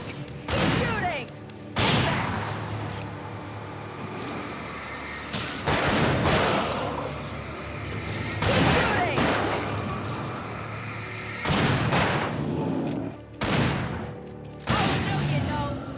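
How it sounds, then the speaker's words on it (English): Bursts of rapid gunfire from the Alan Wake Remastered game, loud clustered volleys recurring roughly every two seconds with brief quieter gaps between them. "Keep shooting!"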